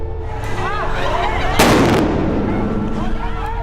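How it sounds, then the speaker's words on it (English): A single loud explosion from an explosive thrown at a street protest in Bangkok bursts out partway through, over a steady crowd rumble and faint voices. "But we're hearing some big bang explosion."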